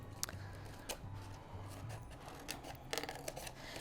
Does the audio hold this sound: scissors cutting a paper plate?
yes